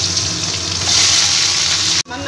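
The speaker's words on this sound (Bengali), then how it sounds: "আলুটাকে ভেজে নিচ্ছি।" Diced potatoes fry in hot oil with a steady, close sizzle that swells midway, then cuts off abruptly near the end.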